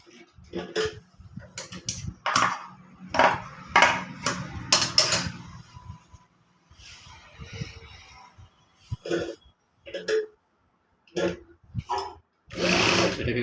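A sewing machine stitches a ready-made style cross pocket on the side of a pair of trousers, running in short close bursts with pauses between the stitching runs.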